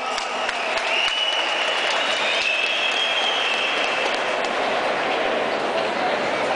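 A crowd of Corinthians supporters applauds at the final of a singing contest, a dense, steady wash of clapping that fills the whole stretch, with faint cheering mixed in.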